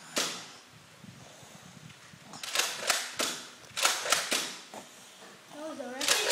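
Raider CS-35 being test fired outdoors, a string of sharp, loud cracking snaps clustered over a few seconds, with a voice speaking briefly near the end.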